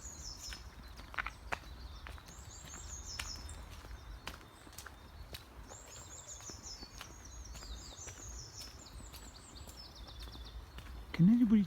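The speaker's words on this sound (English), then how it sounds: "You can hear behind me all the birds" Small birds sing and chirp in woodland trees at a nature reserve, scattered bright calls repeating throughout, moderately near, over a low steady outdoor background, with a brief louder sound at the very end.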